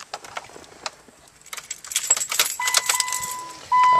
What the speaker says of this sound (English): We're going to start with placing the key in the ignition.